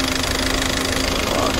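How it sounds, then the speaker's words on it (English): A Peugeot 407 Coupe with the EW12J4 170-horsepower engine idling close by, giving a steady, even mechanical drone with a faint tonal hum, brief and unbroken. "As you can see, this is EW12J4 engine, 3FY, and 170 horsepower."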